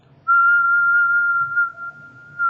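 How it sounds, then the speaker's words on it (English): A person whistles one steady, pure note that holds for about two seconds, clear and close, with faint background hiss and no talking. "for instance, whistling"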